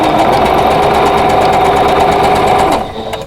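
A sewing machine stitches quilt block pieces together with a quarter-inch seam, a loud, close, fast steady whir of the needle that runs continuously and then slows and stops near the end.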